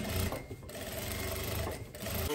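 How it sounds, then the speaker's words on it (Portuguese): Sewing machine running steadily as it stitches a pocket on a tailored garment, a close, continuous mechanical whir with a short pause near the middle before resuming. "eu vou passar uma costurinha aqui."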